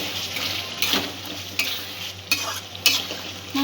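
Green peas are stirred into spice masala in a pan for prawn pulao, a close, steady sizzle with sharp scraping strokes of the spoon coming every second or so.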